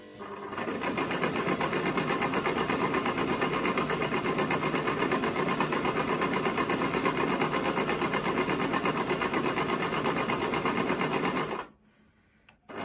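A Brother XL-5600 sewing machine stitches on program 13, a loud, steady, fast mechanical whir with rapid needle ticking, close by, running continuously before stopping abruptly near the end.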